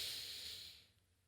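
A single slow, breathy exhalation demonstrating diaphragmatic breathing, heard close and alone, fading out over a second or so.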